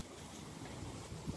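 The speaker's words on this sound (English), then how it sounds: "It's very windy." Strong southerly wind blowing outdoors beside a church in Portugal, a steady, loud broadband roar of gusting air buffeting the microphone for the whole stretch, with no voices.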